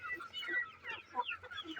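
Several chicks cluck and chatter continuously at close range, overlapping calls with no talking.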